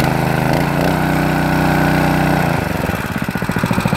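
Petrol-powered garden water pump engine running loudly up close, a continuous buzzing drone that shifts to a rougher, pulsing rhythm partway through as the throttle changes.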